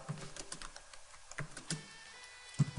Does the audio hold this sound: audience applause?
no